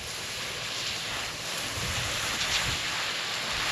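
Garden hose spray watering freshly seeded grass in a sandy backyard, a steady broadband hiss of water that runs without a break from start to end, close and moderately loud, with no talking.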